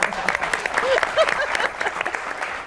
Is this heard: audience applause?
yes